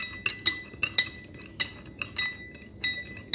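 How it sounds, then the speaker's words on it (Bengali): A metal spoon clinks repeatedly against a glass as it stirs citric acid and salt into water, giving a sparse, irregular series of sharp, bright taps that are close and fairly quiet, with no talking. "আমি মিশ্রণটি ভালোভাবে মিক্স করে নেব"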